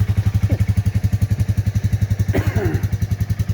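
A Royal Enfield Meteor 350 single-cylinder motorcycle idles steadily close by, fitted with a new catalytic converter exhaust, its even thumping pulse broken by a brief clatter partway through.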